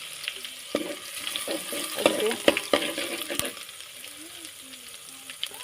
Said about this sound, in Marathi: तेल झाले गरम गरम झाले तर मी आता टाकून देते मी लसूण ठेचून घेतले अद्रक लसूण ते टाकून देते